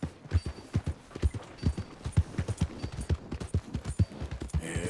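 Steady clip-clop of a horse's hooves from Red Dead Redemption 2, a brisk even rhythm of soft thuds at moderate volume over a light ambient wash, with no talking.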